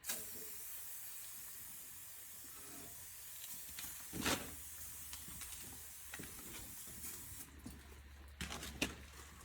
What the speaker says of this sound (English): That brake cleaner comes in handy.